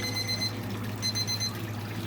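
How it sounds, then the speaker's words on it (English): Maverick barbecue thermometer alarms beep in repeated high-pitched bursts near a barrel house cooker during a baby back rib cook, the tones stopping and restarting over a steady low hum. "we're gonna quieten these alarms and let her go"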